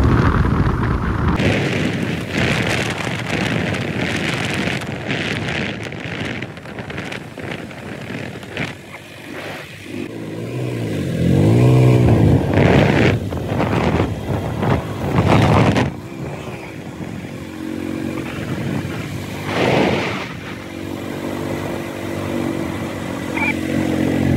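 A motorcycle rides along a rough road in the rain during a trek, its engine droning and rising in bursts over rumbling wind and road noise, loud and close throughout.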